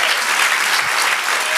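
A church congregation claps for the Lord during a service, dense and loud continuous applause filling the room.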